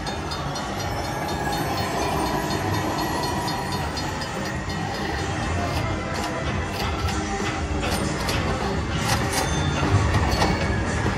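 A train rolls steadily along the tracks in a Cash Express slot machine game, with a continuous rumbling roar and faint rhythmic clacking, loud and close throughout.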